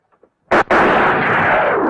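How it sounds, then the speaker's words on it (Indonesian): A single sharp gunshot cracks out loudly, followed by a sustained roaring blast of noise that continues to the end. "Mendengar suara tembakan, para penjaga langsung menyerang"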